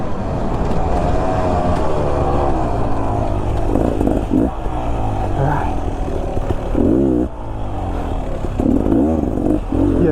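A 2022 Beta XTrainer 300 two-stroke dirt bike on a ride, its engine loud and close, steadily droning and rising and falling in pitch as the throttle opens and closes.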